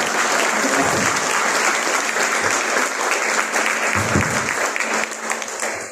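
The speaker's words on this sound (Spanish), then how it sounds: "Dolly merece un aplauso por este." An audience at a book presentation applauds steadily for several seconds, a dense indoor clapping that fades slightly at the end.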